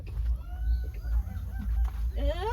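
A mother hen with young chicks in a Lao village yard gives soft clucks and short calls, with a rising squawk near the end, over a low rumbling background and faint voices.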